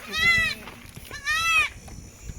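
A Kathiawari goat bleats twice nearby on a goat farm, two wavering cries with a short pause between them.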